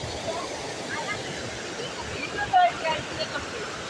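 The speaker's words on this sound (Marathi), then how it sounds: "हे बघा आवाज खूप आहे पाण्याचा." A stream rushing loudly during monsoon rain at Savatsada in Chiplun, Konkan: a steady broadband roar of water close by, with a brief louder splash partway through.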